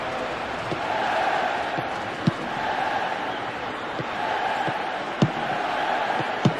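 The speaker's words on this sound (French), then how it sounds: "dans ce stade, on sent vraiment vibrer la foule autour du terrain" A stadium crowd in the football video game Pro Evolution Soccer 2009 keeps up a steady, dense roar with chanting swells and a few sharp thuds, heard alone without commentary.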